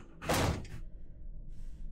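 A door closing in the horror game FNAF Project Box, one loud thud with a short rattling tail, followed by quiet hollow ambience and a faint hiss.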